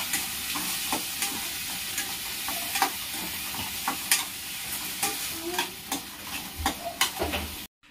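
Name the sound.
stirring rava kichadi with salt and turmeric in pan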